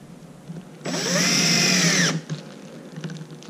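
A power tool tightens a nylock nut with washers onto an RZR seat harness strap, one steady whirring burst of just over a second, loud and close, with no talk.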